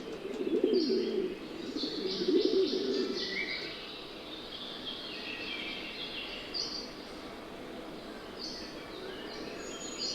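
White-tailed laurel pigeon cooing on an island, low soft coos in two clear bouts near the start, then fading under steady chirping and tweeting from other birds in the background.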